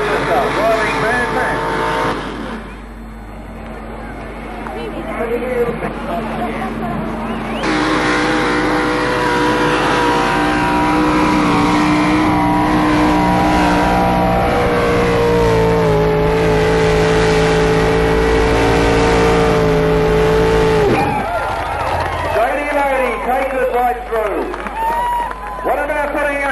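A tractor pull run: a tractor engine revs up and holds a loud, rising roar as it hauls the sled, then cuts off, with crowd noise and a commentator talking over it.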